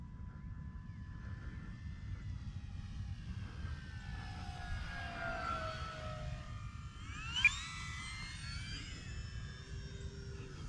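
An E-Flite Air Tractor 1.5 RC model airplane on its maiden flight, its electric motor droning steadily at a distance with slow pitch sweeps as it passes, over constant outdoor background noise.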